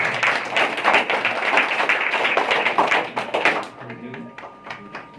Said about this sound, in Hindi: आप लोग तालियों से उनका स्वागत करें